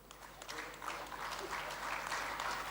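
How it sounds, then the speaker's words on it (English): An audience at an industry-academia conclave felicitation ceremony applauds, a soft, fairly distant, continuous patter of many hands clapping with a low hum underneath. "The round of applause should be louder while the felicitation ceremony is going on."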